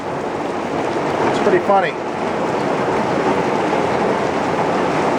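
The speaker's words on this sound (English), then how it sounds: "apparently the rain followed us because it's pouring" Heavy rain pours onto an RV camper at a campsite, making a loud, continuous roar that does not let up, while a person talks briefly over it.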